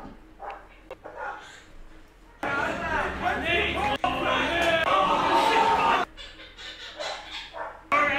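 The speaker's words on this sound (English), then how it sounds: "Dog's going nuts." A dog barks and yips excitedly in bursts, mixed with a loud stretch of crowd chatter in the middle and people talking.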